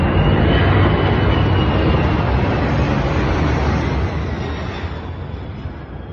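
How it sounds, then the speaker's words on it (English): A loud, close C-17 military jet flying low over Brisbane, Australia roars overhead in a steady broadband rush, then slowly eases as it passes, with no voices. "The C-17 flying low through Brisbane,"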